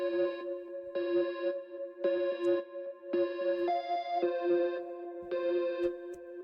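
Dark chord sample in an FL Studio beat, processed with delay, chorus and a lo-fi effect, playing as sustained, repeating chord stabs with a warm, muffled tone and trailing echoes, steady and close with no voices.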